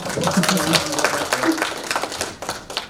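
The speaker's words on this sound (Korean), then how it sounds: "박수 한번 주세요." Audience applause at a district training council gathering, a burst of mixed clapping with scattered taps and some voices mixed in, fairly close and steady for a few seconds.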